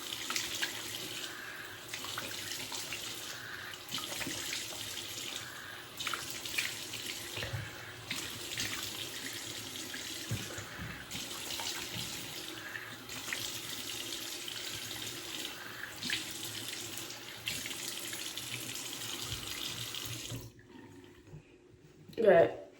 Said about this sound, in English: Hold on, let me wash my face.